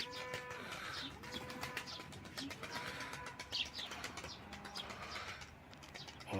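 Soft repeated coos come from a young smoky-coloured pigeon in a quiet loft, close and gentle, mixed with faint chirps and brief rustles of wings.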